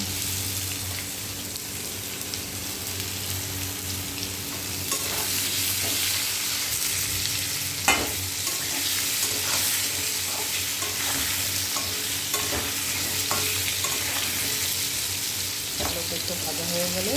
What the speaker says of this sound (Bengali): সামান্য একটু লবণ দিয়ে দেবো, যাতে আলুটা তাড়াতাড়ি নরম হয়ে ভাজা হয়ে যায়।